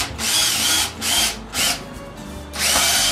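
A power drill boring into a log in four loud, close bursts of whirring, separated by short pauses.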